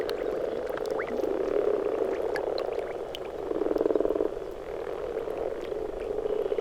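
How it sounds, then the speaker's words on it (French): Common frogs croak in a dense, continuous chorus from a small peat bog pond in the Ardèche mountains, a steady loud mass of calls that swells briefly midway, with no voices. "la grenouille rousse commence sa reproduction. Revenue à la vie après un hiver en léthargie, elle rejoint des mares minuscules"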